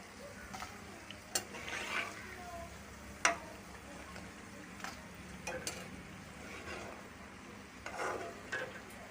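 Namak pare fry in hot oil with a faint, low sizzle and occasional light clinks of a spoon against the pan, fairly quiet and steady.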